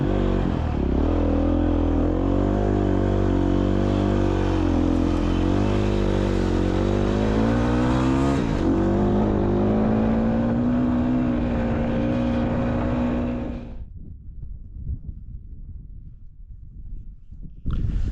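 Motorcycle ridden off-road near San Felipe, its engine droning loud and steady with shifting pitch as it accelerates, then cutting out abruptly to leave faint wind and rumble.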